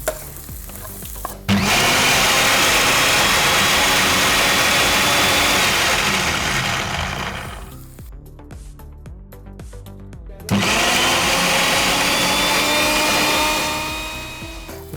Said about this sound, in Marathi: तोपर्यंत कांदा मी परततो इथे